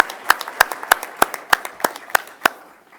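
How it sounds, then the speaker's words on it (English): A small group claps for students at a board meeting, giving a sparse round of distinct, evenly spaced claps, roughly nine sharp strikes close by, trailing off at the end. "let's give these students one more round of applause for their efforts"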